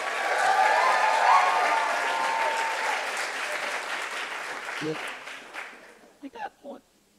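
A business plan competition audience applauds the top eight finalists with thick, sustained clapping that gradually thins and fades, followed by a few short bursts of a voice as it dies away.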